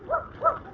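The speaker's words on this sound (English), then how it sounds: "And we got a barking dog up here" A dog barking twice in quick succession, short faint yelps heard at a distance and alone.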